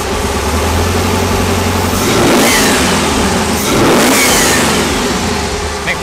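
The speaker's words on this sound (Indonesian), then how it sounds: "Gua akan coba gas ya." Jeep Cherokee engine with a Borla exhaust revving at an auto show, a loud, close, steady rumble that swells through two throttle blips before settling back toward idle.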